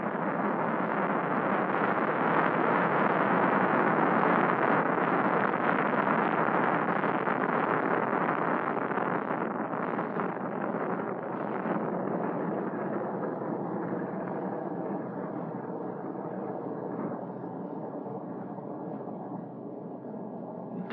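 Titan IIIC rocket launch at Cape Kennedy, a deep, continuous roar that holds steady and loud at first, then slowly fades and thins as the rocket climbs away.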